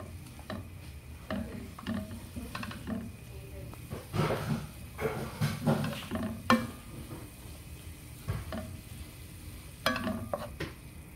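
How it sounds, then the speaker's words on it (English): Sweet potato and leafy greens stirred in a pot with a stock cube, giving soft scraping clinks and a low simmering sizzle with a few louder knocks, close and moderately quiet. "So I'm just going to go in with stock cube, give this a quick stir"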